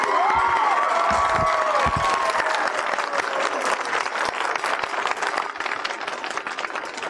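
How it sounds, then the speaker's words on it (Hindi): An audience from Hunza claps hard and fast for their region, a dense, sustained wall of applause with scattered cheers and a brief whistle near the start. "तालियां बजानी है हुंजा वालों ने हुंजा के लिए।"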